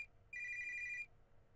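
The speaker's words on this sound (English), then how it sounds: "Joe, is that yours ringing?" A phone ringing inside a pocket in the video game Your Turn to Die, a single bright electronic ring tone lasting under a second, clear and fairly close against a low quiet hum.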